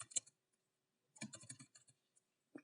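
Several quick clicks from a computer keyboard during data entry, a brief stroke near the start, then a denser burst of keypresses in the middle and one last tap at the end, close and crisp with silence between.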